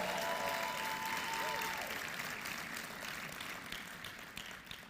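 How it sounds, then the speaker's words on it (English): Audience applause for sponsors at a philanthropy summit, steady crowd clapping that gradually fades, with a faint gliding tone and some background voice underneath. "please give them a resounding round of applause"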